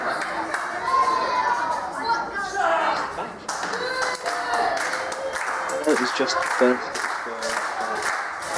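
A wrestling crowd claps and cheers in a lively, echoing hall, with rhythmic clapping and shouting over commentators talking throughout.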